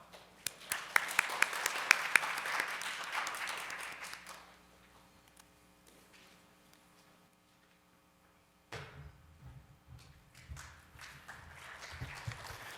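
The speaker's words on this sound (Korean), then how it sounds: "여러분 큰 박수로 로이 태원님을 맞이해 주시길 부탁드리겠습니다." A conference audience at a financial event gives a short burst of applause to welcome a speaker, fading after a few seconds into quiet room sounds, footsteps and faint movement, then a person begins speaking nearby.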